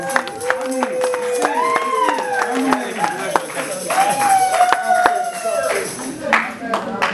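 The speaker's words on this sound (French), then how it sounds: "Les acclamons avec joie, les encourageons avec les acclamations." Wedding guests at a nuptial blessing in Brussels cheering and clapping, with scattered claps, whoops and voices rising and falling in a lively, close crowd.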